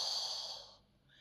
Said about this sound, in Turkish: Derin bir nefes alıyorum.